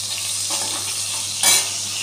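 Chillies spluttering in hot oil in a pan as they are stirred, a steady sizzle with a brief louder burst of crackling near the end, no one speaking.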